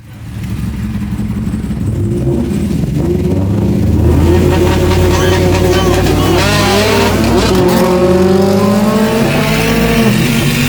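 An 800hp Chevrolet Silverado 4x4 truck and a Subaru STI launch side by side in a drag race from a dig, engines roaring loud and close and climbing through revs, with a tire squeal partway through.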